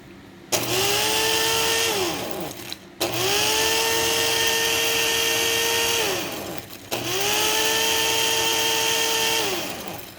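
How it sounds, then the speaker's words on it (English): A coffee grinder loaded with ghost peppers whirs loudly in three close bursts, each one spinning up, holding a steady motor whine and winding down. "pour some more ghost peppers from that bag into the coffee grinder"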